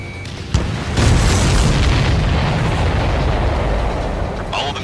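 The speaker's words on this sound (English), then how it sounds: "All of the missiles have been destroyed." Missiles blow up in the Ace Combat 7 flight game, with a sudden loud boom swelling into a sustained, rumbling roar of explosions that slowly fades, mixed with game audio.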